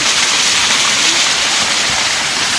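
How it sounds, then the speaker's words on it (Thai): A natural waterfall at a newly opened spot near Kengtung pours down in a constant, dense roar of rushing water that stays steady and close throughout, with no voices over it. "น้ำตกธรรมชาตินะคะ"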